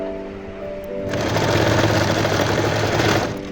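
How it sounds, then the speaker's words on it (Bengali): A sewing machine stitches a tuck into a single katori blouse, its motor whirring up into a steady mechanical run that lasts a few seconds, close and fairly loud. "সেই চিকেনটা আমরা সেলাই করে নেব"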